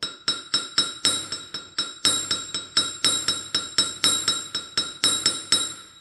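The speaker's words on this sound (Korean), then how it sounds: "이 망치는 항상 같은 자리만 쳐요" Hammer striking the blade of a traditional Korean frame bow saw to set its teeth, a steady run of bright ringing metallic taps at an even rhythm, close and loud with no talk.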